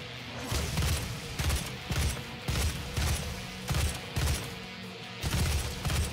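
Repeated gunfire aimed at an enemy in DOOM, loud, close shots coming in a steady rhythm of heavy blasts about every half second to second.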